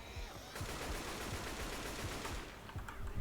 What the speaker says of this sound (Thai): เฮ้ย ปู อย่ายิง ชิบหายละเออปูมึงยิงรถอ่ะ